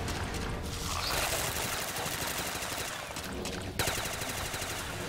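Sustained automatic gunfire rattles through a Call of Duty zombies match, dense and continuous, with a sharp fresh burst near the end and a faint voice underneath.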